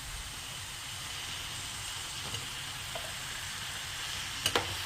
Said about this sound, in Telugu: బ్రింజాల్ వేసి బాగా కలపండి